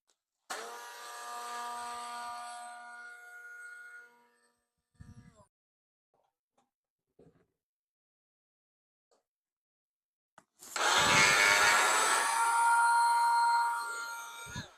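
A loud, high-pitched motor whine from professional hand blender-mixers runs for several seconds, cuts out, then after a few quiet seconds a second, even louder hand blender motor roars steadily.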